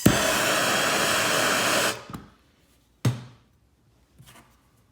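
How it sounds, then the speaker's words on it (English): MAPP gas torch burning with a steady, loud broadband roar for about two seconds during reassembly of a vintage Skilsaw 825, then cutting off, followed by a couple of sharp knocks and faint clicks. "I'll just use the old map gas."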